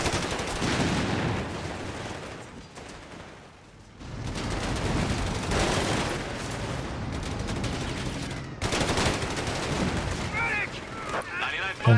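Panzer IV tank cannon fire in Company of Heroes 3 sounds out as loud, repeated booming shots and gunfire over about twelve seconds, layered with battle rumble and other weapons in a busy, close mix.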